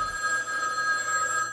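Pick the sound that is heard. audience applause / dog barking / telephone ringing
telephone ringing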